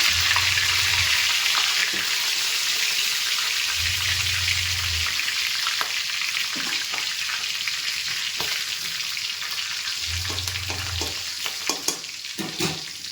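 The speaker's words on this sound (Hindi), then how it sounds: "अब इसी ऑयल में डाल दूँगी ज़ीरा और लौंग" Cumin seeds and cloves sizzling in hot oil, a loud, continuous frying hiss that holds steady, with light crackles and stirring clicks building toward the end and a low hum coming and going beneath.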